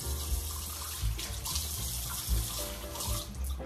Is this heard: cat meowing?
no